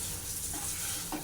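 Curry being stirred in a pot after water is added, a wet scraping and sloshing with a soft bubbling sizzle underneath, close and continuous.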